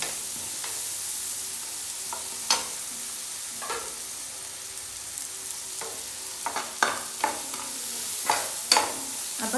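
Ingredients for milk upma sauté in a pan, giving a steady, even sizzle broken by scattered sharp scrapes and taps as a spoon stirs them.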